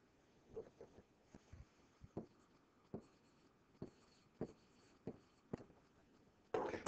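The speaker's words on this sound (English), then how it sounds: "we're going to write that down." A pen scratches numbers onto paper in short, quiet strokes, a dozen or so brief scribbles with small pauses between them, close and faint, ending in a louder rustle.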